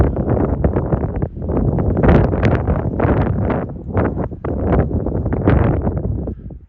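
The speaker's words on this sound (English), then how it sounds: "It's very windy today." Strong wind on a mountain trail near Mount Laguna buffets the microphone in heavy, uneven gusts, a constant roaring rumble close up with no voices.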